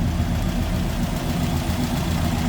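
A 1939 Buick Special Model 46 business coupe idles with its Buick 8 engine, a steady, even, low rumble heard up close and uninterrupted.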